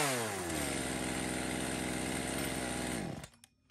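A pull-started chainsaw engine runs at a loud, buzzing idle for about three seconds, then abruptly cuts out, leaving a few faint clicks and knocks.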